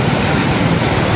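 Floodwater rushes through raised dam gates during a 2025 flood, a loud, dense, unbroken roar of churning water close by with no voices.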